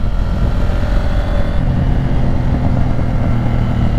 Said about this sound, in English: Pop, pop, pop, pop, pop, pop. Love that from the exhaust now.